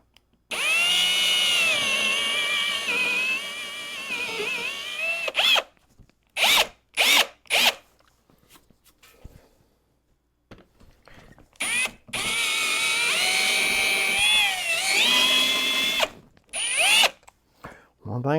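A power drill bores into wood with a Forstner bit, whining steadily for several seconds, then stopping and starting in short bursts before a second long run of drilling.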